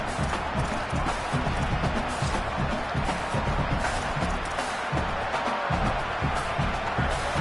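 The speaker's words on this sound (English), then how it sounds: "The roar of the crowd trying to fuel this defense to keep them pinned in their own end." Loud, roaring football stadium crowd in Tennessee, a dense and sustained wall of cheering and noise with no pause, urging the defense on.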